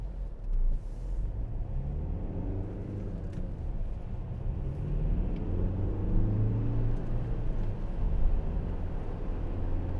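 Inside a 2012 Hyundai i40 with a 1.7 CRDi diesel, a low engine rumble swells steadily under acceleration, fairly quiet and smooth with no talking.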